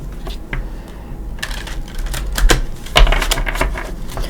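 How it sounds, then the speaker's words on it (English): A deck of oracle cards being shuffled by hand, producing a series of crisp riffling and flicking bursts in close succession, the loudest around the middle and the end, with no voice. "Let's go ahead and give Mother Mary a shuffle or two"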